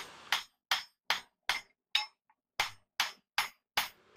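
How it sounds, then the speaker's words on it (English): Sharp, ringing hammer blows strike hot steel one after another while forging a hammer head, at a steady, even pace, about ten distinct hits with short silences between them. "I'm showing the final heat of forging this hammer out."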